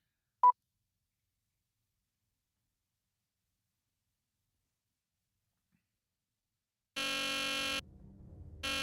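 A loud electronic alarm bursts in near the end after long silence, a dense buzzing tone that cuts off briefly and resumes, preceded by one short beep early on.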